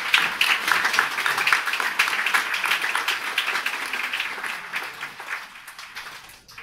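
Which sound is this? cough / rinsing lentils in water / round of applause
round of applause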